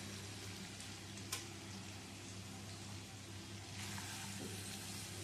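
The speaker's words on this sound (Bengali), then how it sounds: "এঁচড়টা দিয়েও মিশিয়ে নেব।" Fried raw jackfruit being stirred into a spicy mixture in a pan, a quiet steady sizzle with a faint clink of the spoon near the start, no talk.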